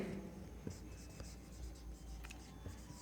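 Chalk or marker scratching on a board during a Hindi chemistry lesson on the mole concept, a steady scraping with short strokes running throughout, fairly quiet, with faint room hum beneath.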